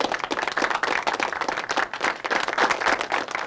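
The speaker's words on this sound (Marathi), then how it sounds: "टाळ्या." A small crowd claps briskly and unevenly in a close room. The loose, rhythmic clapping rises and falls in short bursts and carries on throughout.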